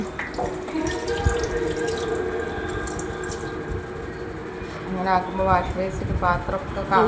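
Food being rinsed under a running kitchen tap, water splashing steadily into a sink with occasional drips and clatter while a person talks over it.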